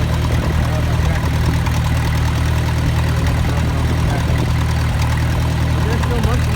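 A tractor engine idles on a cattle farm, a loud, steady low rumble held close for several seconds without change.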